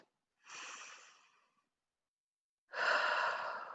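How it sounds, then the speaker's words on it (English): Two deep breaths taken close to the microphone, a long airy inhale followed after a pause by a louder, fuller second breath, with no talking. "Take a deep breath"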